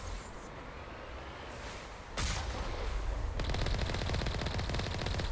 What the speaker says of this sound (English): Wait, Alliance heavy turrets?